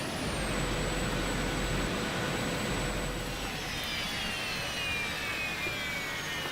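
A big, loud truck engine in a survival video game roars as a steady, close mechanical drone throughout, with a faint high whine fading in and out above it.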